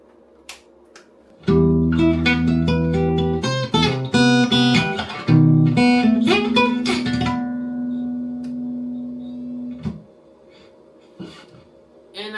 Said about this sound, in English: this is what a clean sounds like on an acoustic guitar